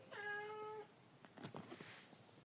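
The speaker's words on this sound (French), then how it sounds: "j'ai un chat qui ne sait pas ce qu'il veut, qui veut rentrer et ressortir. Là, il veut rentrer." A house cat meowing to be let in, one long drawn-out meow close by followed by a few softer shuffling and bumping sounds.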